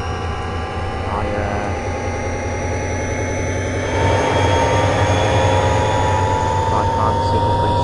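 A diesel locomotive engine in Train Simulator 2013 on Marias Pass drones steadily, then grows louder midway as the throttle is raised, with a constant low rumble and whining tones.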